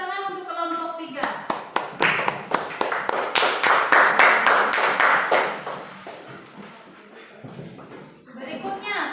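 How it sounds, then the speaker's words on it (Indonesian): Schoolchildren in a fifth-grade classroom clap for a presenting group, starting with a few sharp claps that build into a burst of quick clapping and then fade, with children's voices before and after. "tepuk tangan untuk kelompok 3"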